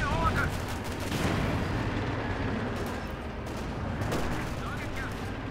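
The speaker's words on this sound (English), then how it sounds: "Engaging the infantry up close there with machine guns" Machine gun fire in a Company of Heroes 2 match: overlapping bursts of automatic gunfire and battle noise, fairly faint and continuous, with no clear talk.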